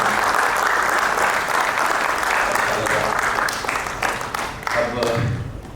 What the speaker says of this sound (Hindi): लोग के लिए भी अब एक तालियां हो जाए।